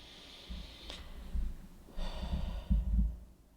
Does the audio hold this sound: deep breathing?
yes